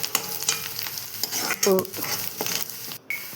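Sizzling in a hot pan as pressure-cooked padadi beans are added to a tempering, with stirring and scraping, a few clinks of a utensil, close and fairly loud.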